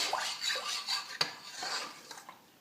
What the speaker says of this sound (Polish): To należy teraz dokładnie wymieszać